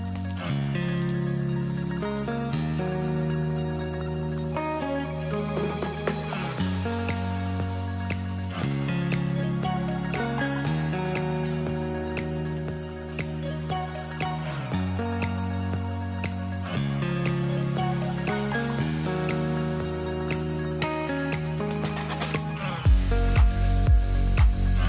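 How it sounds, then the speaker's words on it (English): Broccoli florets and sliced carrots stir fry in a hot wok, giving a steady sizzling crackle that lasts throughout, with cheerful music playing loudly over the frying. "add the broccoli florets and sliced carrots to the wok. Then we're gonna stir fry for 3 to 4 minutes"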